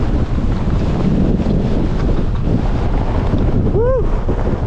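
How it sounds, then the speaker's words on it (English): Gale-force wind roars up a fell-side gully in the Langdales of the Lake District, a constant heavy buffeting rush over the microphone, with a brief whistling tone near the end. "The wind's blowing right up this gully in our faces"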